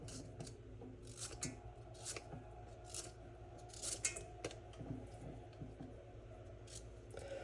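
A carrot being cut and peeled with a knife, no vegetable peeler, in a home kitchen while making spaghetti and meatballs: repeated short scraping strokes over a steady background, close and fairly quiet.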